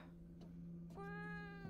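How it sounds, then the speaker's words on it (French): A cat meows in the horror video game Fear to Fathom, a single drawn-out, clear meow that starts after a quiet room tone and holds for most of a second. "c'était le chat."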